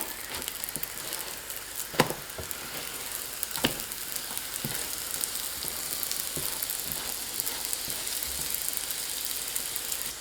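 A flipped homemade meat pie with thin dough and generous filling pan-fries with a soft, continuous sizzle, broken by occasional sharper crackles and pops, heard close up and without talk.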